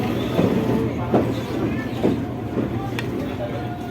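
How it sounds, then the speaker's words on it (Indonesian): A KRL electric commuter train built by PT INKA moves at Jakarta Kota station with a steady low rumble and soft periodic wheel clatter, heard at moderate distance under a voice. "Nah itu dia KRL Inka"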